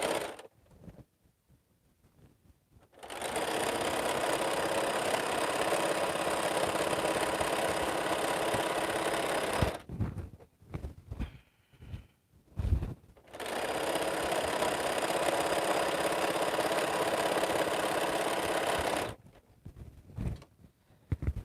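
A sewing machine stitching across a quilt runs in two long, steady bursts of several seconds each, separated by a pause with soft handling noises, the motor's even whir close and fairly loud.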